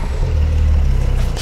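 A 2009 or 2021 Porsche 911 engine running after start-up, a loud, steady low rumble close by, holding continuously with no talk.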